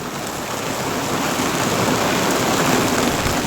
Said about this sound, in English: it's a mixture of snow and rain. You can hear that on the tunnel.